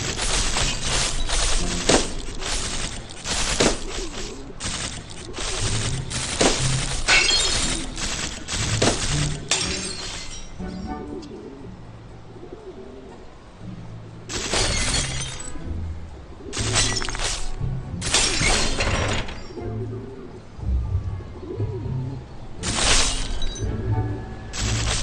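Glass bottles shatter again and again under rapid-fire web bullets in a Spider-Man VR game, with dense bursts of sharp smashing and tinkling shards, then scattered single breaks after a pause.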